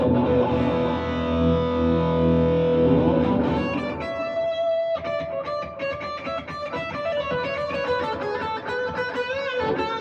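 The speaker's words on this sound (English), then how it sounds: "Ultimatum distortion generator without chorus." An electric guitar runs through an SR&D Rockman Ultimatum Distortion Generator with no chorus, first holding sustained distorted chords, then playing a busier run of picked notes, loud and alone.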